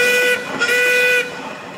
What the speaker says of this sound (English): Can you give us a blast on the whistle?